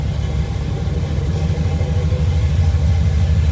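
Steady rumbling idle of a 1975 Chevrolet Camaro LT engine, all original, running close by with a low continuous drone and no talk.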